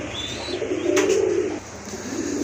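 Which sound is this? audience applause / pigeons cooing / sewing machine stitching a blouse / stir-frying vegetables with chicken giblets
pigeons cooing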